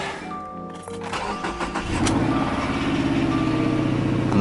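A 2017 Subaru Forester engine cranks briefly and catches, then settles into a steady idle, close and fairly loud, after work on its brakes.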